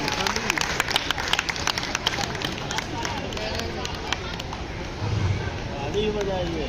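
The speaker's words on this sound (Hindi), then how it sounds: "अरे भाई, इनके लिए तो कई गुना तालियां होनी चाहिए।" Audience applause at an event, dense rapid clapping from many hands continuing steadily throughout, with a voice speaking over the clapping.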